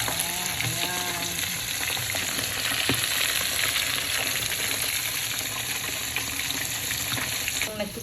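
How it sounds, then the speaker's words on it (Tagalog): Salmon head sizzles and crackles in hot oil, a steady loud frying hiss with occasional pops and a few clinks of utensils. "Piniprito na po siya."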